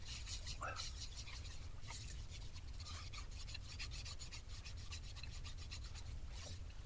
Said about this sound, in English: I'll just put a bit of sand and sealer on there.